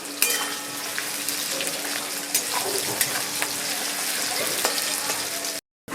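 Onions frying in a pan until browned for a Bengali rajma tarka, a steady dense sizzle and crackle running throughout with occasional stirring scrapes, close and loud, cutting out briefly near the end.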